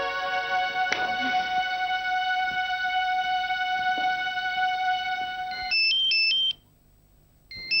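An electronic ringtone melody plays steadily for several seconds, then shifts to a brief pattern of higher beeps before cutting off.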